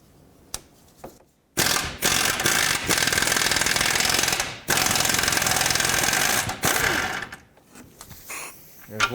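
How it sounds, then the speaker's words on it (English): Ratchet wrench with a 22mm socket loosening front lower control arm bolts on a 2001-2007 Toyota Highlander, with two long bursts of fast, loud, close clicking and a few brief pauses, mechanical clatter at the start and end. "now with a 22mm socket, you can access the 2 bolts for the front part of the control arm. Let's remove those."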